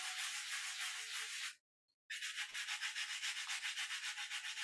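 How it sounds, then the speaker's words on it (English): A pencil is sanded on a sanding block with rapid rhythmic scraping strokes, close and loud, broken by one short pause before the rubbing resumes. "I'm gonna sand this pencil"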